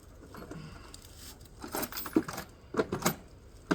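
Keys jangle in a few short metallic bursts in a workshop, picked up to start up a millionaire's fleet of equipment, with light clinking scattered among soft background rustle.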